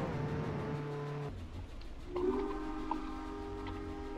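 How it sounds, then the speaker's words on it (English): A train in the Roblox game Jailbreak rumbles along with steady low tones and a held horn-like chord, a short break midway, then resumes with a brighter whistle-like tone over a continuous hum. "There's the train, guys."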